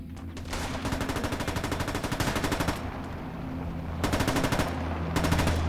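Rapid bursts of machine gun fire rattle loudly in World War II game combat at the Battle of Kursk, long sustained strings with brief pauses between them, dense and close.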